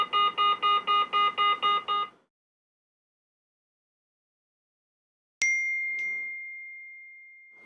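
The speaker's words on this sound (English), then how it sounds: "We can see now we've got a text message." A Doro 7030 mobile phone sounds a rapid run of repeated electronic beeps for about two seconds, then after a pause a single bright chime that rings out and slowly fades, heard close and clear with no talking.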